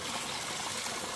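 Fresh forest stream water in Borgefjell National Park flows steadily with a continuous bright, burbling rush, close and even with no other sounds.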